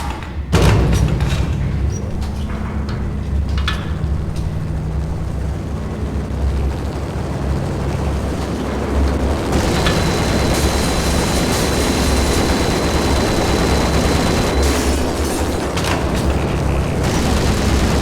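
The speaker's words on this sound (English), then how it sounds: "The unmarked chopper was Horn's pet guardian, inhuman and flawless." An unmarked helicopter in the video game Max Payne roars overhead in a loud, continuous rotor-and-engine rumble that fills the whole stretch, with heavy booming blasts mixed in.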